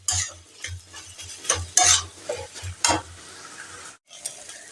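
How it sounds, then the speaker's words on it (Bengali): Taro leaves being stirred and beaten with a spatula in a pan, a rapid run of scraping, tapping strokes under a steady low sizzle, close and fairly loud, with a brief pause near the end. "খুব সুন্দর করে খুন্তি বা হাতার সাহায্যে খুব সুন্দর করে এটাকে বাড়ি দিয়ে"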